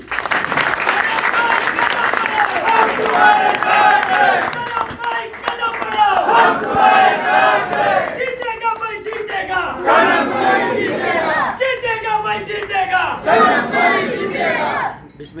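Audience at a stage event cheering and clapping as the next performer is introduced, loud rolling shouts and whoops in repeated swells over steady applause, crowd voices prominent throughout.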